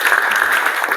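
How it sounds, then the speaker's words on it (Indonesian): A high school vocational class breaks into applause, a dense, steady burst of many hands clapping close by, with no speech over it. "Silakan tepuk tangan."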